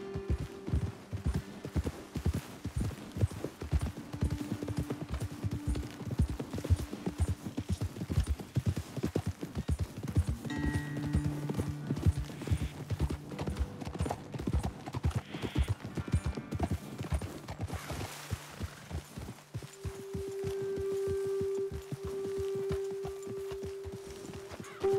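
Horses' hooves clip-clop at a walking pace in Red Dead Redemption 2, a steady run of close, crisp knocks over an outdoor trail, with a brief tonal cue sounding near the end.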